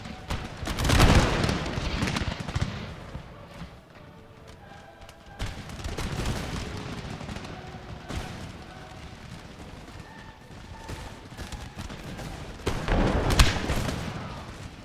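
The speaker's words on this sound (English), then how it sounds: "Doing ripple fire." Musket volleys crackle in Empire: Total War as lines of troops fire in sequence: loud rolling bursts near the start and end, with quieter scattered shots and battlefield rumble between them.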